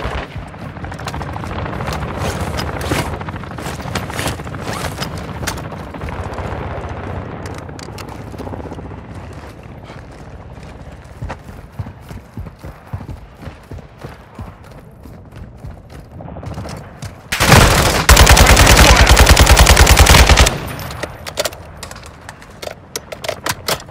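Loud gunfire erupts in Call of Duty Modern Warfare 2 DMZ on Ashika Island, with scattered close shots and mechanical clatter giving way to a dense, sustained burst of automatic fire near the end before single shots resume.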